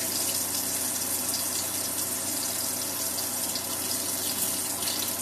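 Tap water running over a finger to rinse off cooking grease in a kitchen: a steady, close rush of faucet water, even and continuous throughout, with no talking.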